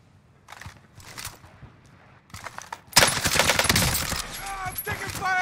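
Gunfire in Call of Duty Warzone: scattered faint shots early on, then a loud sustained burst of rapid automatic fire over the last half, with bits of game sound mixed in.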